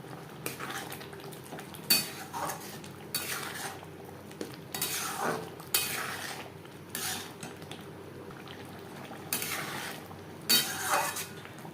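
Chicken ghugni being stirred in a pan after garam masala powder goes in: a series of metal spoon scrapes and clinks against the pan over a faint sizzle, close by, with no voices.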